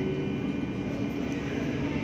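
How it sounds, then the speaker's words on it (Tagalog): A continuous low rumble of a moving metro train in Barcelona, steady and fairly loud, with a faint hum running throughout. "Natakbo na ang tren guys."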